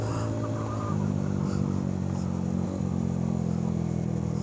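Motorcycle engine, an Mxi125, droning steadily while riding near the Capitol area of La Trinidad, a close, continuous hum that rises slightly in pitch partway through.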